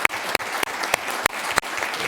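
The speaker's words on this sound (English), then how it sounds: "So we're going to give you a little ovation here." At a city council meeting, the audience applauds state tournament champions with a short, dense burst of clapping in a room, loud and close, with no voices over it.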